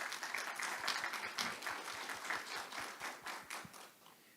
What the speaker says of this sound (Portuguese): Eu gostaria de pedir uma salva de palmas para eles.